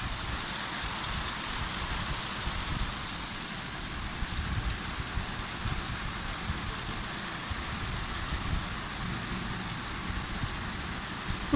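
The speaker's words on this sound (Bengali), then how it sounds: "প্রকৃতির নিয়মে বৃষ্টি হচ্ছে।" Steady monsoon rain pours down, a dense continuous hiss of drops on surfaces with no voices, heavy and unbroken throughout.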